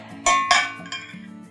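Sauce for oven-baked meatballs is moved from a frying pan into a glass bowl: two sharp clinks of utensil on glass up close, then softer scraping and knocking, with no talk.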